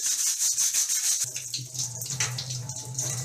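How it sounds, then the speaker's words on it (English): A brush with diluted liquid soap scrubs the drain filter of a Bosch dishwasher, giving a close, steady hissing rub in short strokes that turns into continuous bristle friction along with a low running-water hum. "I generally use a brush to wash like this. I also use little bit of soap liquid, dilute liquid, and rub it gently."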